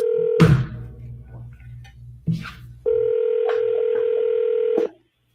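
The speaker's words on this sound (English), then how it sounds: "I'm going to dial the phone right now" A steady dial tone hums, interrupted by a clunk and a brief burst, then returns loud and unbroken for about two seconds before cutting off.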